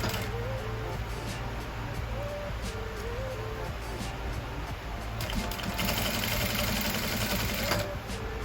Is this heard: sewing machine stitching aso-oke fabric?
yes